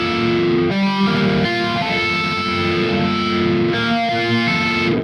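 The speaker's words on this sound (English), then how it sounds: "Your phaser, which is really fun to muck around with." Heavily distorted electric guitar chords through the phaser of the Neural DSP Archetype Gojira plugin, a thick sustained wall of tone with a sweeping, swirling character, re-struck a few times, loud and alone.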